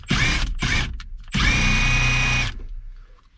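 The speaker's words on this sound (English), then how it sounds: "Grab our drill." A power drill whirs in two short bursts, then runs in one longer high-pitched spin before winding down, during maintenance on a 1985 Camaro Z28.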